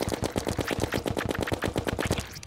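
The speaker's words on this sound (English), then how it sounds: "Okay, there's the laser beams." Rapid, steady rattle of laser beams fired repeatedly in the video game Terraria, loud and continuous like machine-gun bursts, with no talk over it.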